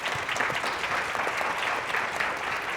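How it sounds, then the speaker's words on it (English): An audience claps for conference panelists after a discussion on modern data strategy, a steady, dense burst of applause filling the room at close range. "Please join me, and big applause to our panelists."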